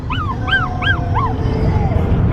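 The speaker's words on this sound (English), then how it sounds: "so dogs are not happy." Unhappy dogs whimper in a series of rising and falling high whines, four close cries followed by a fainter trailing one, over a low rumbling background.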